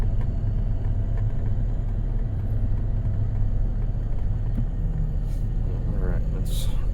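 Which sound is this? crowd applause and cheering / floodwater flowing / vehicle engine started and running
vehicle engine started and running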